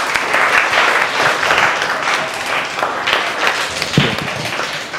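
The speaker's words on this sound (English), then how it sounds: "give yourself a huge round of applause." Students in a university lecture hall applaud themselves, a dense, steady wash of many hands clapping close by for about five seconds with no talking.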